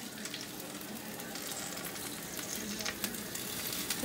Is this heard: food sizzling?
yes